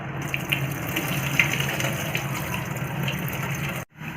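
Water pours steadily off washed ragi grains, a continuous close splashing gush that cuts off abruptly near the end.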